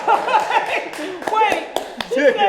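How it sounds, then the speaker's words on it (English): Scattered audience clapping at a stand-up comedy show breaks out in short bursts, mixed with chuckles and a comedian's voice talking over it. "Why y'all clapping?"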